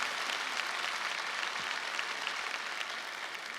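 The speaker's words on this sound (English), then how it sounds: "A round of applause, please, for Kathy." An audience at a leadership convention keynote in Orlando applauds Kathy with dense, steady clapping that fills the room at an even level throughout.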